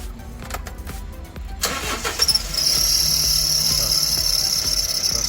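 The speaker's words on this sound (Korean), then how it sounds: "엔진 소음 문제로 입고 하셨는데요." A Kia Bongo 3 truck engine with an engine noise fault cranks and fires up, then settles into a loud, steady running noise with a high whine on top, around the drive belt.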